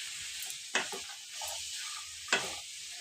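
Egg masala, made with leftover eggs and bottle gourd, is stirred in a hot pan. Two sharp scraping strokes cut across a steady, soft sizzle, with no talking.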